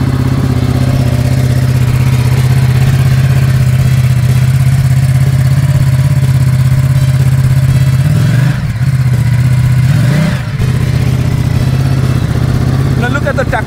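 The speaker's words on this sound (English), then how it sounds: "That's how you start the motorcycle. And I'll give you a little bit of the engine notes." A Ducati Multistrada 950 engine runs at a steady, loud, close idle with a deep throb, briefly blipped twice near the end with quick rises in pitch before settling back.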